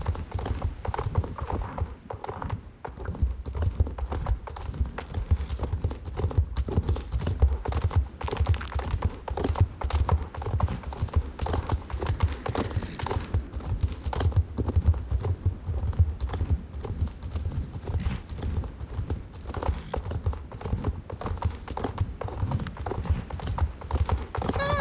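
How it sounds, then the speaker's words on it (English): Horse hooves in Star Stable Online clip-clop continuously in a fast, even rhythm, loud and close throughout as the horse travels along a mountain path. "Good horse."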